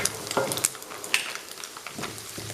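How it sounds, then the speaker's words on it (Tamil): Prawns fry in hot oil with curry leaves, crackling and popping in sharp bursts over a steady close sizzle, with a few stirring clinks and no voices. "சின்னதாக வெடிக்கிற சத்தம் கேட்கும்."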